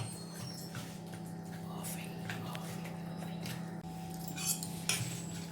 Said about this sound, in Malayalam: ആവശ്യത്തിന് വെള്ളം കുറേശ്ശെ ഒഴിച്ച് കലക്കിയെടുക്കുക.